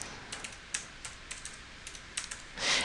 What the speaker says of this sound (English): And let's type in the word bankruptcy.